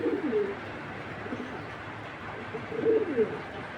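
Soft coos from Mili pigeons come in two bursts, one near the start and another later, over steady low background noise.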